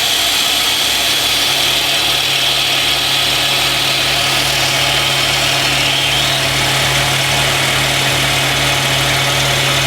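A Jet JWSS-22B scroll saw cuts a piece of warped wood, giving a loud, steady mechanical drone with a faint rattle. It runs unbroken throughout with no voices.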